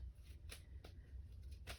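An oracle card deck being shuffled by hand, a run of soft papery riffles and slaps repeating in bursts, close and fairly quiet with no talk.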